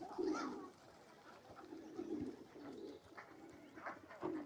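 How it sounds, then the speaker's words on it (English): Pigeons in a cemetery, fed with scattered seed, coo softly and repeatedly in low, burbling calls at close to middle distance, with faint rustling between them. "There's a lot of birds being fed."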